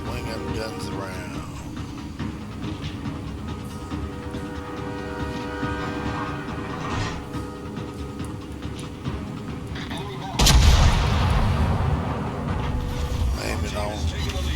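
A single loud, heavy boom of warship guns cuts in near the end, standing out over a constant mechanical hum of ship engines in the World of Warships naval battle game, with someone talking throughout.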